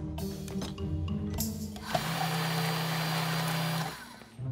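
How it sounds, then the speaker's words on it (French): A kitchen blender whirring steadily with fruit inside, a continuous close motor drone lasting a couple of seconds after brief clatter, with no talk. "Fais gaffe, Nathaniel, je crois que j'ai fait tomber des fruits dans ton mixeur."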